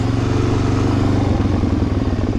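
A Suzuki DRZ400SM single-cylinder motorcycle engine idles and runs loud and close in a slightly sloped parking lot used for wheelie practice, with a steady low throb and no voices.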